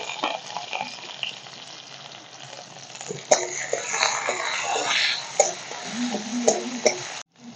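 Steady sizzling and crackling of chopped onion frying in hot oil, with occasional stirring scrapes, close and continuous.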